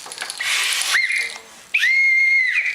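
A loud whistle blown close by, a sustained shrill tone that drops off briefly, then returns in a second long, steady blast.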